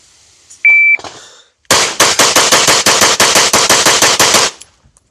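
A compensated SIG P320 pistol fires a rapid string of about fifteen loud, evenly spaced shots, preceded by a short electronic timer beep and a brief pause.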